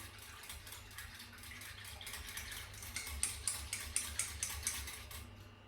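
An egg beater whisks soda bread batter in a bowl, a faint rapid clicking and rattling that grows into a steady rhythmic series of taps and scrapes.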